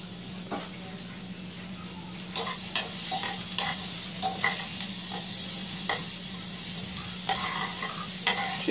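Kamias are dropped into a pan with milkfish, and steady sizzling and frying continue under repeated stirring scrapes and light clinks, moderately close.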